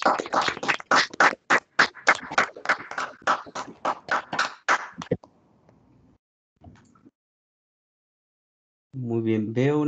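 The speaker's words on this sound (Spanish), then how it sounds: "Aplausos primero, ¿no? Aplausos primero." A burst of quick, evenly paced clapping after a physics lecture on amorphous solids, about five seconds of crisp claps. It ends abruptly, followed by near silence and then a voice speaking.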